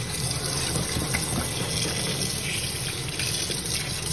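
Tap water runs steadily into a cooking pot during rinsing, a continuous splashing gush held at an even level throughout the stretch, with no talking.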